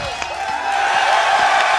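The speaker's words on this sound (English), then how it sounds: "The crowd chanting his name." A live crowd at a Schmoedown event roaring and cheering for a three-time champion, a dense, sustained wall of voices that swells slightly louder partway through, with no clear rhythmic chant standing out.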